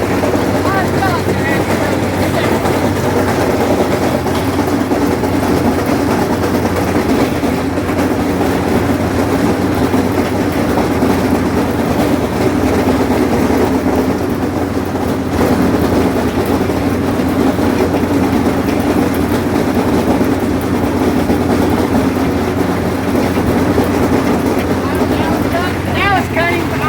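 A 7000-series AC tractor runs steadily while cutting hay, its engine a loud, constant low drone with wind buffeting the microphone throughout.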